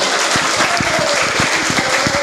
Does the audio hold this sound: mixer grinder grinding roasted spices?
no